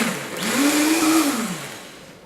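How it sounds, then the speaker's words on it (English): A high-power blender whirs through smoothie liquids, its motor rising in pitch as it spins up, holding a steady loud whine, then winding down near the end; close and alone, with no talking. "I like to turn the blender on."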